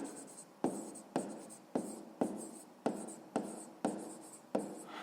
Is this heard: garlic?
no